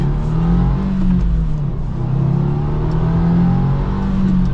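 A 2024 Subaru WRX TR accelerates up to speed, heard from inside the cabin as a steady, loud engine drone with rising and falling revs across gear changes, with no talking.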